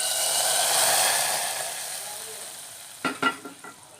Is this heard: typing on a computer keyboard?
no